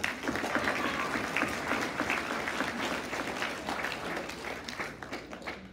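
Audience applause for three award nominees at a red carpet awards event, a steady dense wash of many hands clapping that carries evenly throughout with no voices on top.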